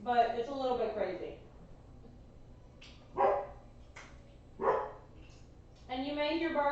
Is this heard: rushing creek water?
no